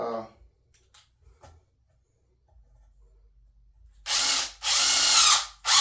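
A cordless power drill driving screws into a garage shelf mount, starting with faint taps and handling, then two loud, close bursts of whirring with a short pause between them.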